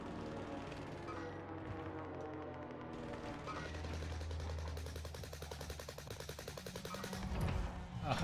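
Rapid bursts of gunfire in Warzone on the Caldera map, rattling fast over a rumbling background, growing louder toward the end, with no voices.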